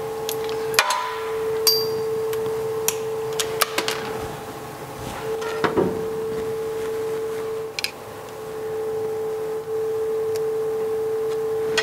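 A screwdriver pries brittle, oil-soaked clips out of the wiring harness on a BMW X3 3.0L GM5L40E transmission, making scattered close metallic clicks, taps and scrapes over a steady tonal hum.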